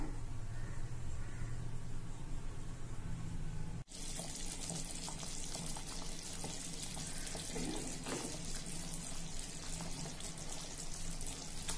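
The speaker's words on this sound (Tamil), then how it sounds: "குழம்பு கொதிச்சிட்டு இருக்கு" Tamil vatha kuzhambu curry bubbles and simmers steadily in a pot, a constant watery hiss and burble with a brief interruption partway through.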